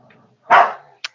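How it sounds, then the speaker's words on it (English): A dog growls at its own foot indoors: one loud, close, rough burst lasting about a third of a second, followed by a brief sharp yip. "If this is you growling at your own foot"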